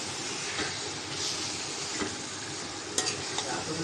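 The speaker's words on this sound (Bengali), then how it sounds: "মাছটা দিয়ে দিলাম। মাছটাও কষাই নেব মশলার সাথে।" Eel pieces stirred and fried in spice paste in a pan: a steady close sizzle with scraping stir strokes and a few sharp clinks near the end.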